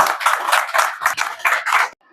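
Crowd applause at a Buddhist hunger strike gathering in Delhi: steady clapping from many hands in repeated swells for about two seconds, then stopping abruptly into quiet.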